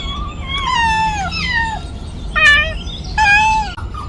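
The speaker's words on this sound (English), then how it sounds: "Cat." A cat meows several times up close, giving long drawn-out cries followed by two shorter, sharper meows with brief pauses between them.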